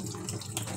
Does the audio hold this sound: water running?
yes